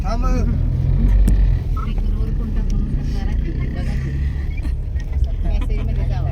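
A packed car carrying a family out on a Navratri temple trip rumbles along with a low, steady engine drone and road noise, loud and close throughout, no speech heard.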